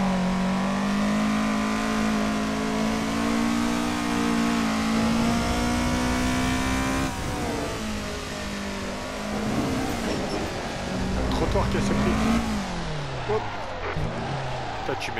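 Race car engine in the Assetto Corsa Japanese Pack driving game holds a loud, steady high drone, then drops in pitch at a gear change and climbs again, with people talking over it.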